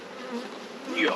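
Honey bees hum around an open production hive, a close, steady buzzing drone that swells briefly near the end of the short stretch.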